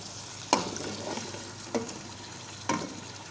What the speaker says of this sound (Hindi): थोड़ी देर इसको भूनेंगे हम